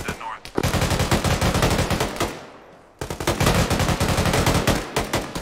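Sustained automatic gunfire in an ArmA 3 military battle, loud rapid bursts of close rifle or machine-gun fire with a brief pause in the middle before the firing resumes.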